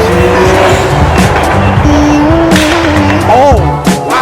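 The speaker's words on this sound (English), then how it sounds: "Oh, there goes the Supra." A Toyota Supra passes close by on a road beside the M4, its engine note rising and falling briefly amid surrounding traffic noise and tire sound.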